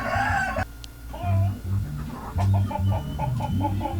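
Basilan roosters cluck close by in a run of short, repeated bursts, rising and falling in rhythm over a couple of seconds.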